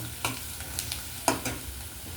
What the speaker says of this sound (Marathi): आता तेलामध्ये हा मसाला पण चांगला तेल सुटेपर्यंत